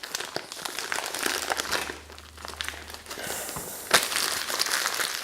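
Plastic packaging around a pastry product crinkles and crackles up close in irregular bursts as the product is lifted out, with one sharper crunch near the end.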